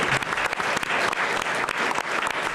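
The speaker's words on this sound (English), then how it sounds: "a nice round of applause for what George said." A studio audience on a sports talk show breaks into steady applause, dense overlapping claps at moderate loudness, continuing throughout with no talk over it.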